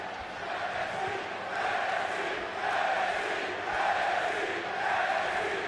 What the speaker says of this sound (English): The crowd chanting NXT.